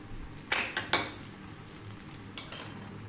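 Chopped red onion and garlic sizzle in a pan on high heat, a steady close hiss punctuated by a few sharp utensil scrapes and clinks against the pan.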